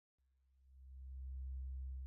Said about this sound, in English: Let me play a really low note.